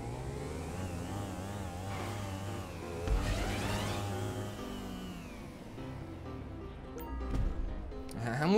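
A motorcycle engine in GTA V Online revs and whines with rising and falling pitch sweeps, moderately loud and mixed with other game sounds.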